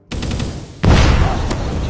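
Kilo 141 assault rifle firing in a video game: a close, loud burst of rapid automatic shots with a sharp jump in intensity partway through, and no talk.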